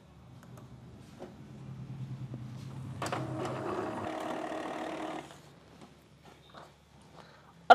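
An Epson printer with a clogged head runs a nozzle check print: a low mechanical hum builds, then a steady whirring buzz of the print pass for about two seconds, followed by faint clicks and a sharp final knock.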